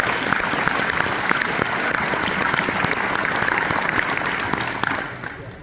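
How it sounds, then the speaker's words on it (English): Sustained applause from an event audience at an economic development opening session, dense steady clapping from many hands that fades toward the end. "Please give our elected and representatives a round of applause."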